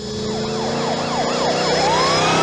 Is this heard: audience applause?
no